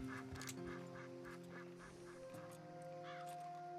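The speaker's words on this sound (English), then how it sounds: "I'm hearing the ducks," Faint, repeated duck quacks and honks sound over a steady Red Dead Redemption 2 game soundtrack drone, quiet and somewhat distant.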